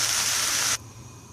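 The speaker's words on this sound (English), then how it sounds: "now we're going to add 6 cups of water" Water pours into a pot of ham and potato soup in a kitchen, a steady loud hiss for under a second that stops abruptly, with no talking.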